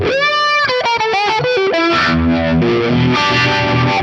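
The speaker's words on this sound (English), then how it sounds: "let's have a listen to the FAS vibe" An electric guitar runs through the FAS vibe effect on an Axe-Fx III, with a distorted, swirling tone. A quick run of picked notes leads into a held, wavering chord that rings loud and close.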